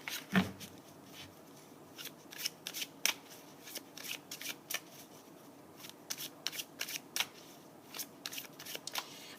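Tarot cards are shuffled and handled up close during a monthly reading, making a run of quick crisp riffles and soft slaps in irregular bursts, with no speech over them.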